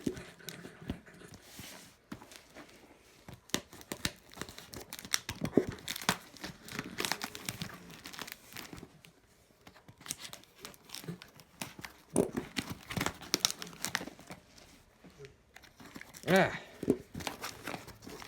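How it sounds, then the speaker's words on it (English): A cardboard box being opened, with crinkling and tearing of heavy packing tape and rustling paper in bursts, close and fairly loud, while several people talk throughout. "now we got a box to cut open"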